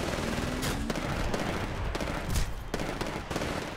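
Rapid gunfire in the Titanfall IMC campaign, dense bursts of automatic shots and sharp cracks firing almost continuously at close range with no talk over them.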